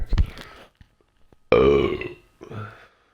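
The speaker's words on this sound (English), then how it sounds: "Let me get a massive burp out too that you might not hear." A single loud, massive burp from a man wearing a headset, close and drawn out for about half a second with a rough, croaking tone, followed by a shorter softer sound.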